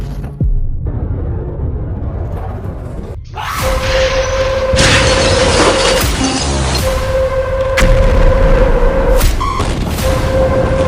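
A heavy boom from the 2020 Beirut, Lebanon explosion is followed by a loud, sustained roar and rumble with crashing debris, and a shrill tone rings over the noise.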